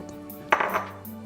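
A spoon scrapes and knocks against a pot while parmesan is stirred into soft polenta, one brief close burst of stirring over a low steady kitchen hum.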